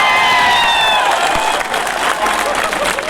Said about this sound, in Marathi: त्यानंतर कवी, व्याख्याता, वक्ता आणि शिक्षक सतीश शिंदे सर, यांच्यासाठी जोरदार टाळ्या वाजवा.